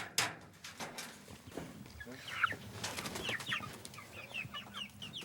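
Chickens bought at a market cluck near a newly built coop on a small island, with intermittent clucks and squawks over background talk and movement.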